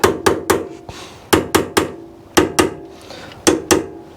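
Sharp metallic hammer taps strike the edge of a workpiece held in a chuck, which is turned between hits. The blows come in quick pairs and triplets separated by short pauses, each followed by a brief ringing decay.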